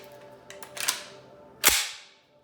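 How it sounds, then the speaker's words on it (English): A PTR 91 Classic rifle trigger gives a few small clicks and then one sharp, loud mechanical snap as it releases and resets, heard close up and by itself. "Then we do our release. Very distinct trigger reset."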